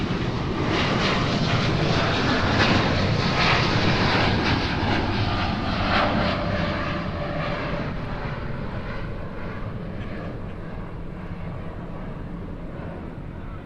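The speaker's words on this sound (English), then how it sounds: "So this is the American Shorty Dreamliner heading back to DF Dubs." An American Airlines Boeing 787-8 Dreamliner jet roars steadily at night at Honolulu airport, a loud, broad engine rumble that slowly fades as the aircraft moves away.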